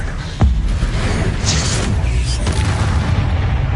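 In the video game Hogwarts Legacy, a Confringo spell explodes with a sharp, deep boom, followed by a sustained rumbling, crackling wash and a few smaller bursts that fade out over several seconds.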